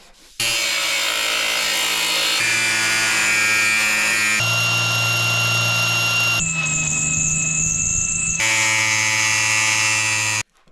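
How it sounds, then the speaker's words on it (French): A drill bores through a small metal bracket in a steady, loud whine that shifts pitch in several distinct stages as it cuts, running about ten seconds with no talk. "Non sans mal, j'ai réussi à percer ma petite patte."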